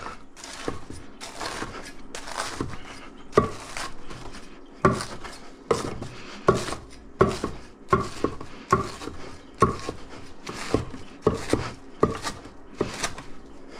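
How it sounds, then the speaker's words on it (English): A large pizza knife chopping bread into small pieces for stuffing, striking a cutting board in a steady series of sharp, close knocks spread over about fourteen seconds. "pull out my BAPK, which is my big ass pizza knife, and we'll just chop these up"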